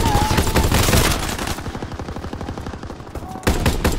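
Rapid automatic gunfire from a Call of Duty WWII free-for-all match, loud bursts of repeated shots with a brief lull in the middle before heavy firing resumes.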